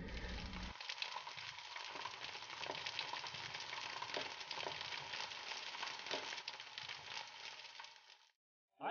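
Pancetta sautés in oil in a pan, giving a quiet, continuous sizzle and crackle with a few soft stirring knocks, then a brief silence at the end.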